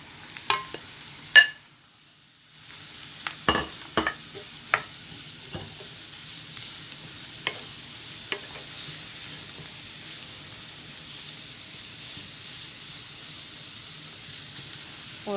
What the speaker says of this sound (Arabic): في المقيله عملت شويه د الزيت، حطيت البصيله ديالي خليتها تقلى شويه